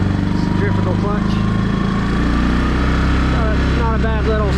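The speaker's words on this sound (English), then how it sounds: "Not a bad little sound for a factory exhaust." A 2008 Yamaha Wolverine 350 ATV with its factory exhaust idles steadily nearby, giving a constant low, throbbing engine drone throughout.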